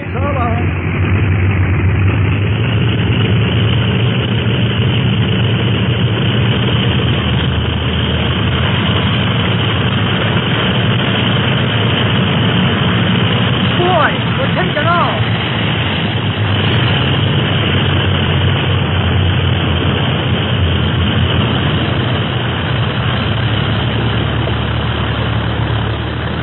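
A droning airplane engine in flight, used as a radio drama sound effect, runs steady and loud throughout, with muffled voices faintly mixed underneath.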